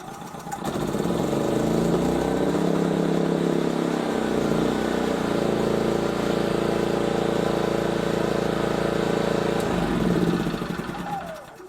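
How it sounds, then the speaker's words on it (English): A Hyundai HY3200SEI 3200 W inverter generator engine starts up and then runs at a steady, loud, even drone for about ten seconds before cutting out, with no talk over it. "as you saw when I turned it to the start position, just like a car switch, the engine started"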